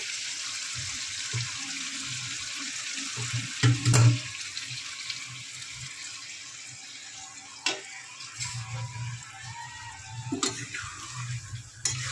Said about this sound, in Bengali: দিয়ে দেবো ঝোল